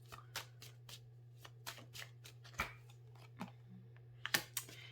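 Tarot cards shuffled by hand in a steady run of crisp riffling bursts, close and fairly soft over a low steady hum, with no voices.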